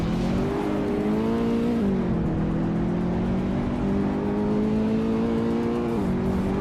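A classic 1969 Shelby GT 500 muscle car engine in a racing video game, a loud steady revving drone with slight pitch dips and rises, continuous and close with no talk.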